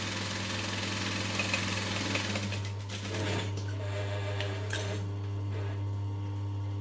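A sewing machine runs steadily, stitching fabric for a small mini NCW sewing project, its motor hum constant and close with a faint mechanical rattle throughout, no voices.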